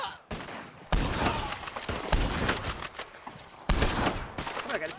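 Sniper rifle gunfire cracks out in Red Dead Online, loud sharp shots repeating in bursts amid a busy firefight, with a voice briefly audible between volleys.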